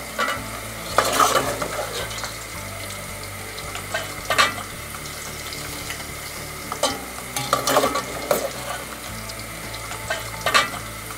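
Potatoes sizzle in hot oil while a utensil stirs and scrapes the pan in intermittent bursts.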